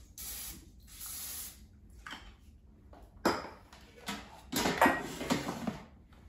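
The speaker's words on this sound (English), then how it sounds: "I'm going to spray these muffin cups with a non-stick cooking spray" Non-stick cooking spray sprayed onto six silicone muffin cups for air fryer chocolate muffins, heard as several short hissing bursts of varying length, close and clear, with quiet pauses and light clicks between them.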